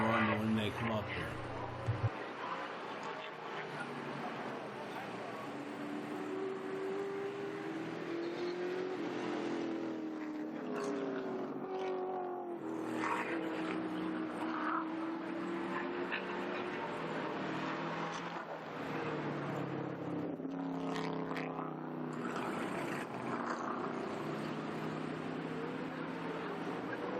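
Trans Am race cars, including Mustangs and an older 1965 or 1966 Mustang, run laps at Lime Rock Park, their engines droning and rising steadily beneath continuous commentary from a man.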